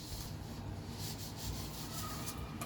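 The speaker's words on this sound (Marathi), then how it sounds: "तर आता आपण हा बटाटा सोलून घेत आहोत." A potato is peeled in a kitchen while preparing a vegetable biryani, giving a faint, steady scraping and rubbing close up with no voices.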